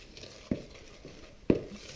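Sugar and salt being stirred into pancake batter in a bowl: two distinct scraping knocks of a utensil against the bowl about a second apart, close and clear, with quiet kitchen background between them.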